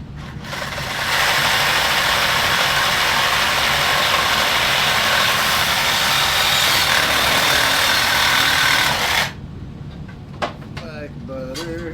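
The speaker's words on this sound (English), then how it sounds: "now we're going to cut them with my trusty old M18 Sawzall" Milwaukee M18 cordless reciprocating saw cutting through steel steering knuckle parts, a steady loud buzzing cut lasting about eight seconds, then stopping with a few clanks and handling noises afterward.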